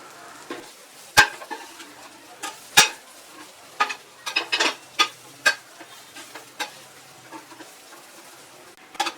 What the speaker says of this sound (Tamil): சேர்த்துட்டு ஒரு தடவை நல்லா கிளறி விட்டுடலாம்.